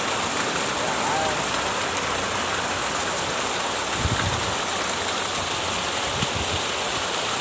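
Heavy rain pours down in Bommidi, Dharmapuri district, during a record downpour, a steady dense roar of water on surfaces throughout with a few louder splashing bursts near the middle.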